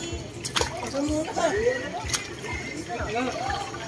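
Water splashing as people bathe at a child's birthday celebration, choppy splashes and sloshing close by, mixed with children's voices and chatter throughout.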